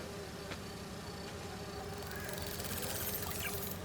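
Buzzing of virtual bee wolves in the Spider-Man 2 game, a continuous insect drone that thickens and grows louder toward the end, with no speech.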